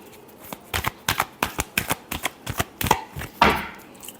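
Tarot cards being shuffled by hand during a reading, a quick run of about a dozen crisp riffling bursts in steady rhythm, close and fairly loud, with no talk.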